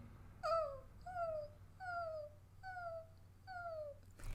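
A singer's voice imitates a dog whimper, repeating five soft, high, downward-gliding nasal whines in an even rhythm, quiet and close with no other sound.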